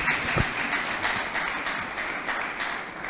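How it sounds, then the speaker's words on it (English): Audience applause at an international university guest lecture, steady clapping from a crowd filling the hall without a break. "A round of applause for yourselves."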